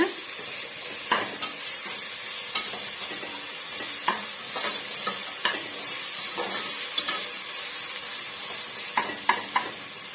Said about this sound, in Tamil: இந்த பச்சை வாடை போகிற வரைக்கும் நல்லா வந்து வதக்கி விட்டுக்குங்க